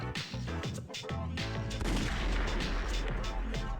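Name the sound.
starting pistol gunshots at a race, from Persona 3 video game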